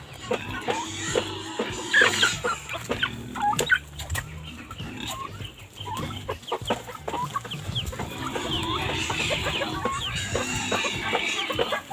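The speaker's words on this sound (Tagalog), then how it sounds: "kumakain yung mga pabo at saka manok" Turkeys and chickens cluck and squawk throughout, several birds close by with scattered sharp calls, occasional human voices mixed in.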